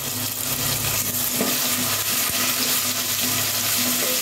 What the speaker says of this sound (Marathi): गॅसची फ्लेम स्लो ठेवून आपल्याला 2 ते 3 मिनिटं छान असं परतून घ्यायचं आहे मसाला